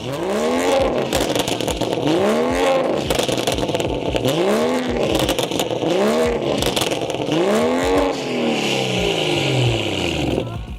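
Car revving repeatedly through a 3-inch straight pipe and 4.5-inch catless downpipe with 4-inch tips, loud and close, with rising and falling rev sweeps about every two seconds and a raspy exhaust roar.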